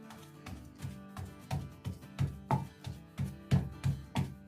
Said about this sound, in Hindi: एक दफा ना कुंडी में अच्छी तरह इस मिक्सर को कूट लेंगे